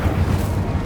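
An Incendio fire spell cast in the Hogwarts Legacy video game, a short, loud, rumbling whoosh of flame with a dense low roar.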